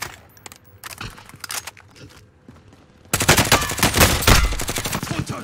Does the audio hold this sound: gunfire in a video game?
yes